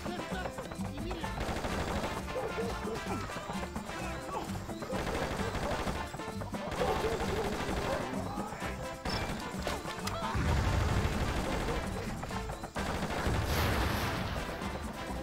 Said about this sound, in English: Who are you, and why are you shooting at me?